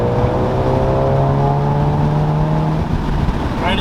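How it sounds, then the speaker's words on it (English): A VW Golf R MK7.5 with an APR exhaust holds a steady, loud drone at about 3,000 RPM in fourth gear. The engine note rises smoothly and continuously as the car accelerates, and no talking is heard. "right as you put on the accelerator, valves open and it comes alive again"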